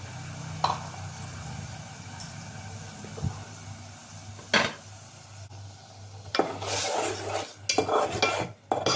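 Chutney stirred in hot oil in a pan, a scraping spoon giving intermittent rasps and clatters over a soft steady sizzle, with louder scrapes bunched toward the end.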